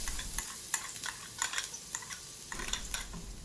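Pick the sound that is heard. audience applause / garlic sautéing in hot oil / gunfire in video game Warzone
garlic sautéing in hot oil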